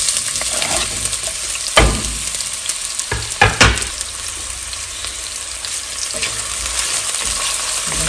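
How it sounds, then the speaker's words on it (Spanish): Chopped onion sautés in a pot of hot oil with a continuous, fairly loud hiss and crackle. A few louder stirring scrapes cut through the sizzle, and no voices are heard. "Vamos a dejar que se sofría un poquito."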